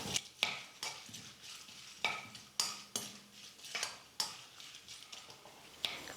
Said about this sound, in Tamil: முந்திரி பொன்னிறமாக வர வரைக்கும் நம்ம வறுத்துக்கலாம்